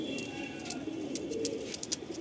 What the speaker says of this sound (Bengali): আন্ধ্রা টিপলার এই কাঁচা হলুদ চোখের দেখুন পায়রা দুটো